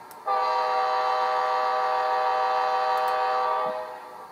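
A Rapido Amtrak F40PH model locomotive's DCC sound decoder sounds its horn in one sustained, chord-like blast of about three and a half seconds, loud and clear, then it cuts off.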